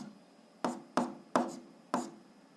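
A pen writes on paper in four short, distinct scratchy strokes, close and fairly quiet, with brief pauses between them and no speech.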